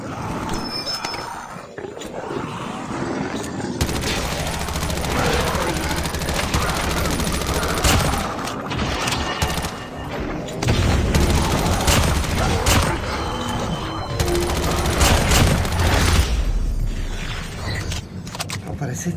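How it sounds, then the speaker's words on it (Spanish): Rapid bursts of gunfire in the video game Undead Siege rattle repeatedly, loud and dense, with brief pauses between volleys and a voice talking over parts of it. "Tirando tiros como un loquito al lado de la base"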